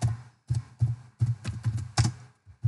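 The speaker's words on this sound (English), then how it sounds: "here I'm typing" Keyboard typing in short bursts of clicks, a handful of quick key presses with brief pauses between them, close and fairly quiet with no talking.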